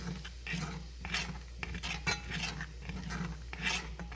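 A spoon stirs chicken potpie filling thickened with flour in a pot, making a soft, continuous scraping and swishing sound against the pan at low volume.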